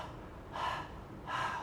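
A teacher imitates tired panting with two breathy, forceful exhalations about a second apart, close and clear in a quiet room, with no words spoken.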